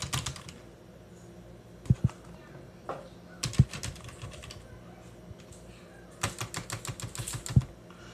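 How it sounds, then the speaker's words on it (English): Typing on a wireless keyboard connected to a Raspberry Pi setup, quick bursts of soft key clicks separated by pauses, close and fairly quiet. "So, I mean, keyboard works."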